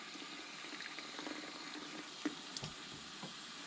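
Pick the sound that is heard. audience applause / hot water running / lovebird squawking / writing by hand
hot water running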